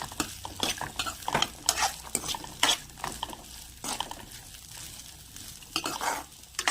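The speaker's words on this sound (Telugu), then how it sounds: "తర్వాత స్వీట్ కార్న్ వేసి దీన్ని కూడా కాస్త ఫ్రై చేసుకోవాలి" Sweet corn kernels fry in oil while a spoon stirs them, producing a soft sizzle punctuated by repeated scraping strokes and metallic clinks against the pan at an irregular rhythm.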